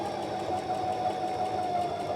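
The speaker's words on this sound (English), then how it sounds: "lower the foot, and I'm going to start sewing" A Brother XM2701 sewing machine runs steadily while stitching with a twin needle, a continuous even mechanical hum that is close and moderate in volume, with no voices.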